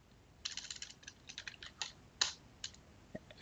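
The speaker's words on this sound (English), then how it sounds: "if you just simply want to start typing, you can start typing" Typing on a computer keyboard while writing text: brisk bursts of close, crisp key clicks with short pauses between runs, fairly soft and heard alone.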